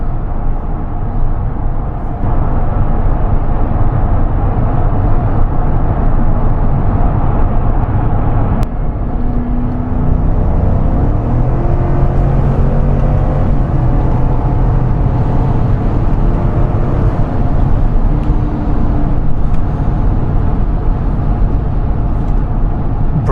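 A 2025 GMC Yukon AT4 cruises at highway speed, its cabin filled with a steady, loud low road and wind roar, with faint tonal hums rising midway and no one talking.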